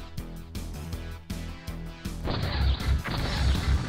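Gunfire in the video game UFO: Enemy Unknown, with booming, crashing shots over a rhythmic music bed, growing denser and louder in the second half.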